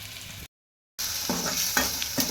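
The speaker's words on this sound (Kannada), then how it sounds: "ಈಗ ನಾವು ಉಳ್ಳಾಗಡ್ಡಿ ಮೆಣಸಿನ್ಕಾಯಿ ಟಮಾಟಿ ಮಸ್ತ್ ಫ್ರೈ ಆದವು" Onion, green chili and tomato fry in hot oil, a steady close sizzle with occasional scraping stirs; the sound drops out completely for half a second, then returns louder.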